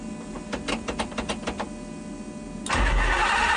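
Race-spec Ferrari Enzo supercar, stripped of sound deadening, cranking with a series of rhythmic starter whirs before the engine catches and bursts into a loud, steady idle roar, close by, with no talk.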